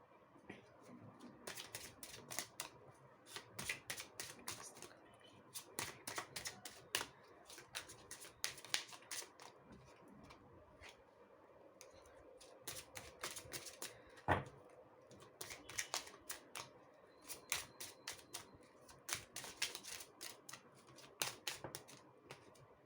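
Tarot cards are shuffled by hand at close range, quiet crisp bursts of riffling and flicking clicks that repeat in uneven clusters over a soft background.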